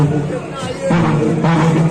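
Dense crowd at a ghat in Banaras during evening aarti: a busy babble of many overlapping voices, close and fairly loud, with nearby people talking throughout.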